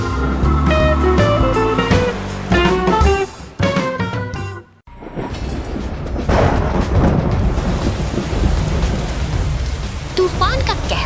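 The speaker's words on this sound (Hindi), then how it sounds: "तूफान का कहर थमने का नाम नहीं ले रहा है" Cartoon thunderstorm with steady heavy rain pouring across a surface and low rumbling thunder, loud and continuous, following a stretch of music that cuts out abruptly.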